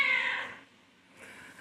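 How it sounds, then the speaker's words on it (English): A kitty cat gives a single close meow that tails off, followed by a fainter second meow or rustle, with no talking. "This kitty cat."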